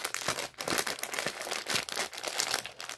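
Crinkly plastic packaging around a personal hygiene product is handled and opened up close, giving a dense run of sharp crackling and crumpling bursts in quick, irregular rhythm with no talk.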